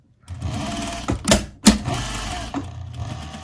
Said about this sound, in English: Back stitching at the pin.